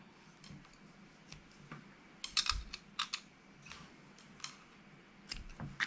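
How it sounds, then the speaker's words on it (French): Scissors snipping paper while a birthday explosion box is crafted, giving quiet, irregular crisp clicks and short cuts in small bursts against a faint background. "Mon ciseau ne veut pas couper. Je vais couper 4 morceaux."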